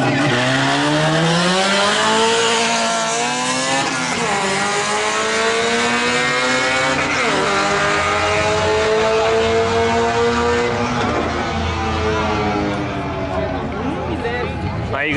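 Drag race launch of a Volkswagen Amarok V6 with nitrous against a Honda Civic Si, engines roaring and rising through gears in long sustained sweeps, loud throughout, with people talking over it.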